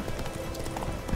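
Hooves clip-clop in a quick, steady rhythm as the horse Roach gallops in the video game The Witcher 3, a short continuous burst without speech.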